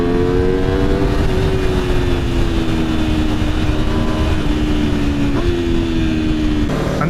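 A 2017 Aprilia RSV4 RF sports motorcycle under acceleration, a loud continuous high-revving engine drone with steady pitch rising, brief shifts, heavy rushing wind noise, close and alone without talk.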